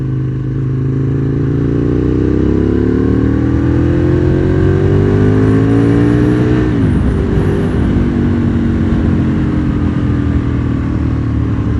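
A 20-year-old Aprilia RSV Mille R sport motorcycle accelerates hard from low RPM, its loud, close engine note rising steadily through the gears. Around the middle the pitch drops briefly at a shift, then climbs again under constant wind rush.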